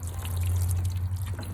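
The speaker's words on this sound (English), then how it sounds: "what I'm going to do is water this way so it trickles down" Water trickles gently from a can onto garden soil around small young plants, a soft continuous splashing close by over a low steady hum, with no talk.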